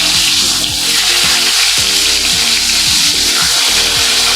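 Pieces of pointed gourd (potol) sizzling loudly in hot oil, a steady close-up frying hiss with crackling spatter throughout, overlaid by a low droning hum.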